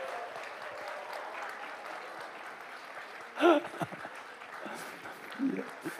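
A church congregation gives a short burst of applause after a sermon, brief and fairly faint, with a pastor speaking around it.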